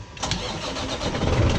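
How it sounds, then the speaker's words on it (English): A fire department tower truck's engine cranks and catches, the motor firing up close by and settling into a steady mid-pitched rumble over about a second and a half, with no talk. "Start the truck."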